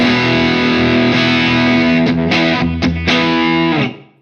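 Distorted electric guitar through a Wampler Plexi Drive Mini overdrive pedal with the low boost engaged, voiced like a Plexi amp into a 4x12 cabinet: thick sustained chords ringing for about four seconds, a few quick restrikes near the end, then fading out.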